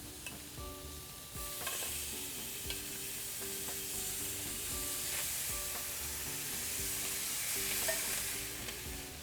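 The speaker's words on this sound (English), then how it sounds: "We have a nice searing hot pan here. I'm going to put it down the side that I glazed." Maple-glazed Australian lamb chops sear in a hot pan, making a steady bright sizzle with a few scrapes and clicks. The sizzle swells once the meat goes down and holds evenly for several seconds, with no voices.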